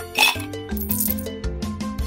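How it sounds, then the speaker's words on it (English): In a kids' video game, ice cubes drop into a juicer with a bright clinking rattle, followed by lighter clinks over cheerful background music. "Drop in some ice cubes."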